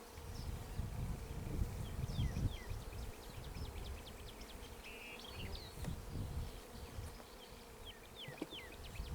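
Honey bees buzz continuously around open hive colonies as frames are handled, a dense, faint hum close by, with occasional dull knocks and thumps of equipment.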